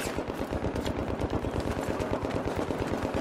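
Rapid automatic gunfire in a multiplayer shooter game rattles continuously in a fast, even rhythm, loud and dense throughout without pauses.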